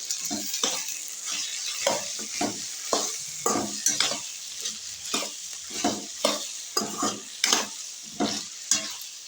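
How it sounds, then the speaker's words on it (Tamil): Tomatoes being sautéed in a pan for a home-style tomato curry, a steady close sizzle broken by repeated scraping strokes of a stirring spoon, with no talking. "இங்கே வந்து பார்த்தீங்கன்னா தக்காளி குழம்புக்கு வந்து வதக்கிட்டு இருக்கு"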